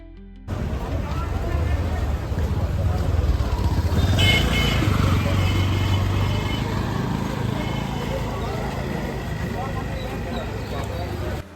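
Busy road traffic on the climb up to Kamakhya Temple in Assam, with motorcycle and vehicle engines rumbling steadily and continuously close by, mixed with street noise and a passing murmur of voices.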